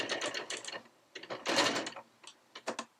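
Domestic sewing machine stitching fabric in quick bursts, a rapid mechanical whirring chatter that starts and stops several times, close and fairly quiet, with no voices.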